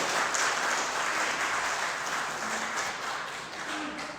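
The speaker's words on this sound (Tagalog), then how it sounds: "Siguro yung pinakamalakas na palakpak natin para talaga sa ating Panginoon." A church congregation breaks into loud, sustained applause for the Lord, dense clapping filling the room steadily and easing slightly toward the end, with no voices over it.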